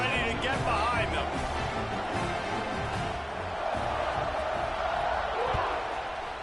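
A college football stadium crowd roars in a steady, dense wash just before the opening kickoff, with a commentator talking over the noise throughout.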